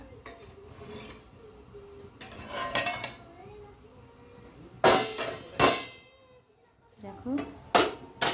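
Metal pots, lids and utensils clatter and scrape in a kitchen as steamed pitha comes off the stove, several sharp clanks and rattles spaced apart with quieter handling between them.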